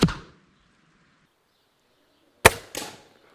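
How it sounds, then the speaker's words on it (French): A crossbow bolt is released with a sharp crack, and about two seconds later come two loud metallic impacts as it strikes and knocks a pan, clear and close with no talking. "j'ai vu la flèche partir et la casserole sauter"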